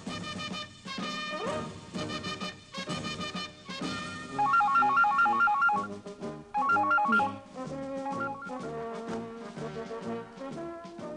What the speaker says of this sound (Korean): 네, 카카 전화입니다